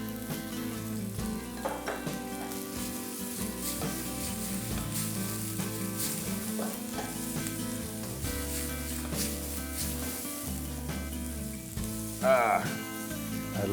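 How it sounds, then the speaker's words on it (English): Vegetables stir-frying in a hot pan, with yellow and green bell pepper among them, sizzling steadily and close for the whole stretch, and a brief louder scrape near the end as the pieces are tossed. "we want to stir fry them so they can cook very fast"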